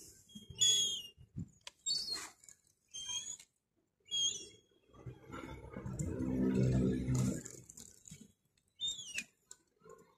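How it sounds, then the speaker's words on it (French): Low, soft cooing from pigeons in a burst of a few seconds in a small park in Peñíscola, mixed with chirps and squeaks from small birds nearby. "Les pigeons."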